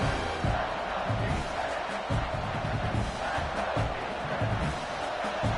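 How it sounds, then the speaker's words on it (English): A big stadium crowd roars continuously at a Michigan versus Ohio State college football game as the defense stands near the goal line, a dense, loud wall of cheering and yelling with a commentator talking over it. "And this big crowd doing everything possible to inspire this defense down here near the goal line."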